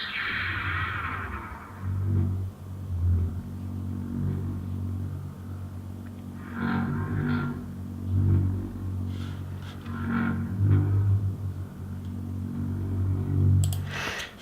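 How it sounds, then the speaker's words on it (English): A steady lightsaber hum played from a sound-effects board, with a low droning buzz held throughout and occasional swelling whooshes rising and falling over it. "So it's a constant kind of saber sound."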